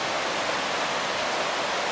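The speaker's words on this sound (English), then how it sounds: "here's a beautiful creek in the back of our campsite" Gore Creek flows beside a campsite in White River National Forest, a steady, dense rushing wash of water that holds an even level throughout with no voices.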